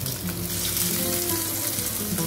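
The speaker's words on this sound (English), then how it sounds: "You need to fry off the lobster as well." Lobster tails fry in a hot pan for a Spanish seafood stew, giving a steady, close sizzle and crackle that holds evenly throughout with no talking.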